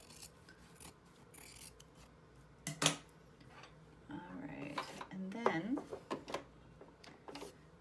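Scissors make several crisp, close snips as they trim fabric near a stitch line, with rustling cloth between the cuts, while a person talks over them.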